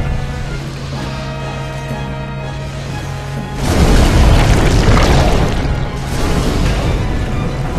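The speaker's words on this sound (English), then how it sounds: "So we're just gonna throw fire bombs at him" Fire bombs exploding in Demon's Souls: a hum and tonal drone gives way to a loud, deep, rumbling blast that roars on for several seconds.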